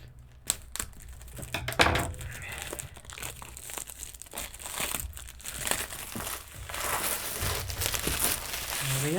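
Diamond Art Club kit box being opened with scissors, a close run of crinkling, crumpling and tearing packaging sounds with sharp cracks, loud and continuous for several seconds.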